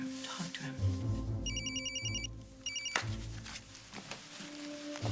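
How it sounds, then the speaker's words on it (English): A cell phone rings indoors in a short repeating electronic tone in two bursts, heard over a low room hum, with brief speech around it. "It's Carly's cell. What does she want?"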